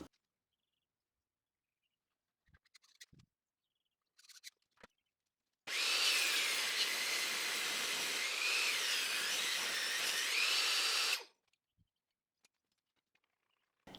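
A table saw cuts through a wooden gate board in one loud, steady rip lasting about five seconds, with faint clicks and handling noises before and after and quiet gaps around it.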